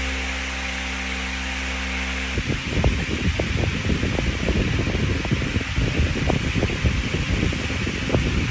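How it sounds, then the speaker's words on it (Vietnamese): Sumika ST650 industrial standing fan blowing steadily, a loud continuous broadband whoosh of moving air with low motor hum, close and constant throughout with faint rustling flutter once it settles. "mời anh em cùng nghe tiếng gió thực tế của quạt công nghiệp Sumica ST650"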